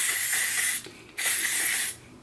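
Two bursts of fine setting-spray mist from a pump bottle onto a face, each a steady hiss lasting under a second, close by, with a short pause between.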